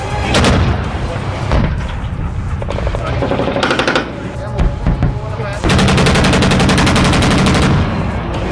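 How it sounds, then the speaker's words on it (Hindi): Tanks fire during a military exercise, heard as loud, repeated booms and rapid machine-gun-like bursts in dense, overlapping volleys that continue throughout. "यहां जमीन से लेकर आसमान तक टैंक की आवाज से थर्रा रहा है"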